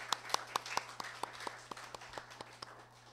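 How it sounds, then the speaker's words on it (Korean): A church congregation welcoming a pastor claps faintly and at a distance. Only a few hands are heard, in an even, quick rhythm that thins out over a few seconds. "한 박수로 한번 환영해 주시고 가겠습니다"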